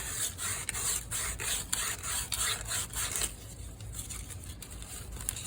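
Sandpaper rubs back and forth across a surface in quick, regular rasping strokes, close and fairly quiet, the strokes growing softer and more continuous toward the end.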